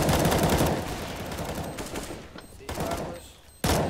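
Gunfire in a competitive team shooter match, with loud bursts of rapid shots early on and another sharp burst at the end, separated by quieter stretches.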